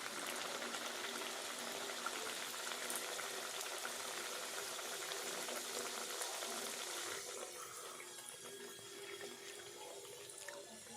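Kachori fry in oil with a steady, fine, bubbling sizzle, fairly faint and continuous, easing slightly toward the end with no talking.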